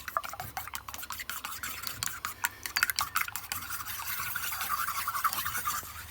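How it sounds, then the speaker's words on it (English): Beaten eggs being stirred for an egg and tomato dish, a fast rhythmic clicking and scraping of utensil against bowl that runs the whole time, close and fairly loud, with no talk. "I'm just going to keep stirring this."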